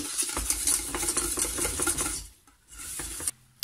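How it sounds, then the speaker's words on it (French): A utensil stirs lemon cream in a pan off the heat with steady scraping and clinking against the metal. The stirring is close and continuous, pauses briefly near the end, and no one speaks. "Et surtout, j'arrête pas de mélanger."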